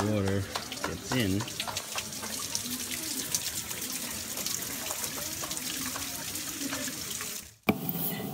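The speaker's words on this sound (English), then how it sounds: "Here's how the water gets in." Steady water splashing and pouring continuously into a fish tank in a tropical fish store in Shibuya, Japan, close by, with a brief voice at the start and a short break near the end.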